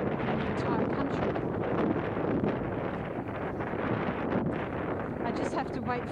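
Steady wind buffeting a microphone outdoors in Vestermarie, Bornholm, Denmark, a loud continuous rushing roar with gusty flutter throughout, no other clear sounds.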